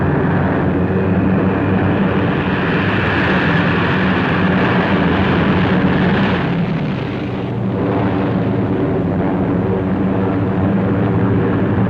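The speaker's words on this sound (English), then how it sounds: "Again on the morning of July 25th, the planes came." Waves of WWII bombers pass overhead on the morning of July 25th during Operation Cobra in Normandy, a dense, continuous roar of many aircraft engines, loud and unbroken, with a brief dip in the middle and no talk.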